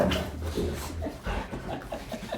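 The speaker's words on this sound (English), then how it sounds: "Crazy dogs." Dogs whimpering and panting close by, a run of high whiny whimpers mixed with rapid breathy pants over about two seconds, fairly loud with no talk.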